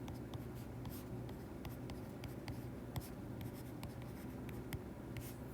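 Pen or marker writing during a physics lecture on relative velocity, a steady scratchy scribble with short strokes and taps repeating throughout at moderate volume, no talk.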